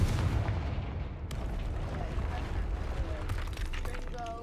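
The Confringo spell cast in Hogwarts Legacy sets off fiery blasting bursts, sharp crackling impacts buried in dense, continuous game combat noise.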